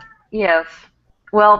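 A house cat meows twice, close and fairly loud, with short pauses between calls, while someone speaks a couple of words on an online talk show.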